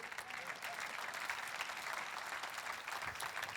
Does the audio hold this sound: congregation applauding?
yes